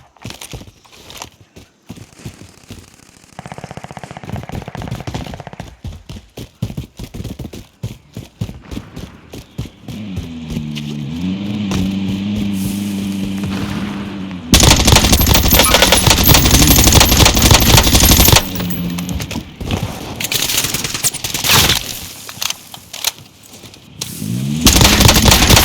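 Suppressed AS Val rifle fire in the Warzone Pacific video game, with rapid bursts of muffled automatic shots, then a long loud roaring stretch of heavy action sound in the middle before fading.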